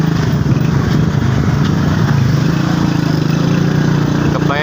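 A motorcycle engine running nearby, a steady mid-pitched rumbling drone that holds constant throughout, with speech mixed in under it.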